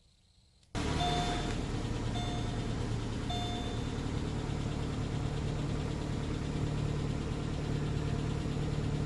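A 2005 Chevy Malibu engine starts up and settles into a steady idle just after an oil change, a close, constant low rumble with a few faint chimes right at startup and no speech.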